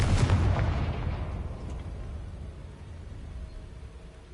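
A Confringo spell blast goes off in Hogwarts Legacy, landing as a loud booming burst at the start and then rumbling down into a long fading tail, with no voices over it.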